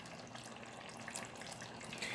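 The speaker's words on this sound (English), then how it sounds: "So I have here now my liquid curry, and I'm just gonna pour that at the top" Liquid curry poured over marinated chicken gives a steady, wet splashing and trickling sound that runs close by and continuously for about two seconds, with no talking over it.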